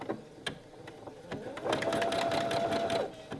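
A domestic sewing machine stitches through hand-knitted fabric to secure a steek before cutting, with a soft whirring run that grows louder and steadier midway, alongside someone speaking French.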